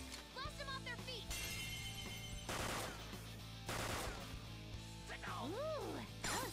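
Gunfire rattles in the video game Persona 5 Royal, bursts of sharp shots layered over battle music and effects, loud and dense across the scene, with a voice speaking amid the action.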